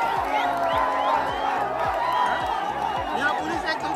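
A dense, noisy crowd at a football match between Bagrakote and Kumdini, shouting and cheering constantly with overlapping voices and chatter, loud and close throughout, with steady thumping underneath.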